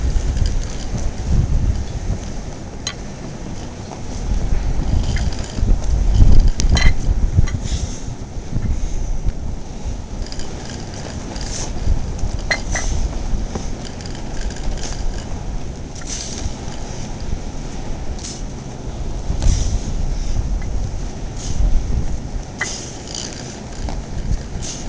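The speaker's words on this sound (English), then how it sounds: "Doing this in a blizzard." Blizzard wind roars and buffets outdoors in falling snow, a loud, continuous rushing with gusting surges that swell and fade, with no voices.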